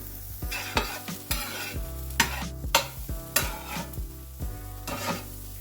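Garlic sizzles in a pan as it is cooked for ground beef tacos, with repeated sharp scrapes and clanks of a utensil stirring against the pan over a steady frying hiss, close and fairly loud.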